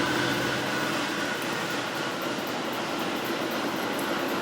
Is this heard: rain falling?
no